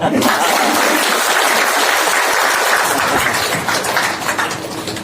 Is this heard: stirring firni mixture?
no